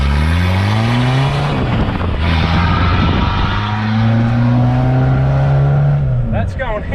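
A Suzuki Vitara with a swapped 2.1 turbo-diesel engine drives hard, a loud steady drone rising and falling through the gears from inside the cabin, with people talking over it.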